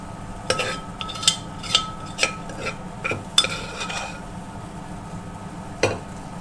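Tadka dal stirred with spices in a pan for egg tadka: a series of distinct spatula clacks and scrapes against the pan, spaced about half a second apart, over a faint low sizzle.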